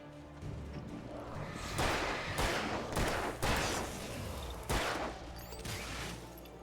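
Gunshots ring out in the Alan Wake video game, several sharp loud bursts spaced irregularly over a constant background of game ambience.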